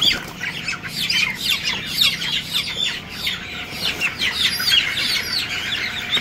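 Many chickens, hens and roosters, squawk and cluck loudly and continuously during beak trimming by hot-blade burning, a dense overlapping chorus of sharp cries with no talking.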